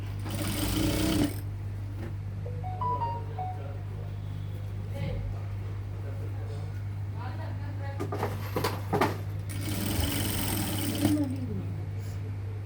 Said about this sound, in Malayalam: ഈ പീസ് ഇതിന്റെ താഴെ വെച്ചിട്ട് നമ്മൾ ഈ ഒരു ഫൂട്ടിന്റെ വീതിയിൽ സ്റ്റിച്ച് ചെയ്തെടുക്കുകയാണ്